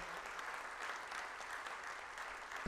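At a solemn session marking a charismatic renewal anniversary, an audience gives faint, steady, distant applause, ending in a brief loud thump.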